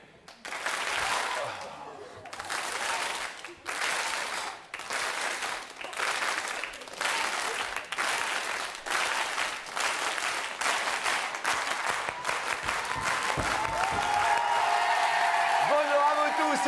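A studio audience on the French TV game show Attention à la marche bursts into applause in rhythmic pulses, first in choppy waves and then swelling into continuous loud clapping, with a faint tone emerging at the end.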